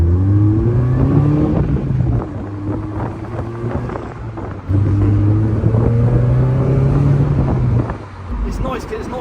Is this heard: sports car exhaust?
yes